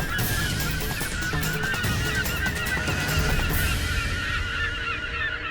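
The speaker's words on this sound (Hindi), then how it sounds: "पक्षियों का समूचा झुंड आ रहा है।" A dense flock of birds calling and honking continuously, loud and layered, many voices overlapping with no pause, set in a mythological TV serial scene on Mount Kailash.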